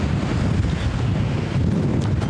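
Gale force wind buffets the microphone at a disc golf park at Cutter Park, Norfolk, a loud, constant low roar with gusty rumbling throughout and no talk.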